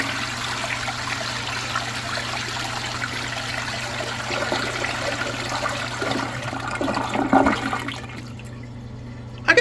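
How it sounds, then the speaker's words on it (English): An American Standard Cadet II front-flush toilet flushes with a loud, steady rush of water and trickling for most of the clip, then the sound drops off into quiet refill before a final thump. "Let's have a look at a flush."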